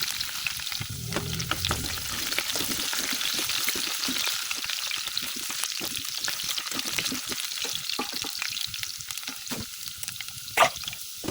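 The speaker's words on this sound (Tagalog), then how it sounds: "Balik rin natin para pantay yung pagluto ng ating carrot saka yung ating sarap." Carrots and chicken frying in a pan give a dense, steady sizzle with crackling pops and occasional scrapes of stirring, close and continuous throughout.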